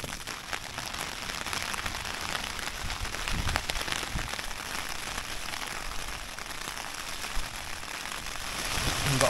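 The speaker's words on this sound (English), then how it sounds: "it has just started raining now." Rain patters steadily on tents at a windy wild camp at Margery Stones, a dense, even crackle of drops that is moderately close and continuous, with no voices.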